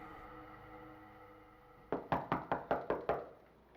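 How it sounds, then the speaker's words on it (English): A series of six sharp, evenly spaced knocks on a door sounds out loud and close after a low, murmuring background, rapping in a quick steady rhythm. "Amid all the shouting, there came a knock at the door."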